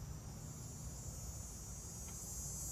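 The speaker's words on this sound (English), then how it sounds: "I can't believe the cicadas are out today because it's not that hot." Cicadas buzz on a mildly warm, fairly dry day, making a steady, continuous high-pitched drone that runs unbroken from start to finish, with no voices.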